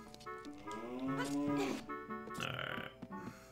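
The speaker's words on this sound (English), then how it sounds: "Hey, cow!" A cow in The Legend of Zelda: Ocarina of Time lets out a long, drawn-out moo, loud and close, followed by a shorter lowing call, with no talk over it.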